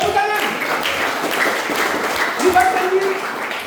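A church congregation applauds during a Bible discussion service in Abepura prison, with scattered clapping under a voice speaking loudly over it.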